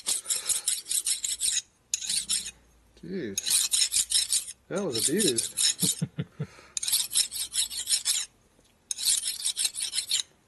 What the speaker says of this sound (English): That's why I keep relatively dull files around.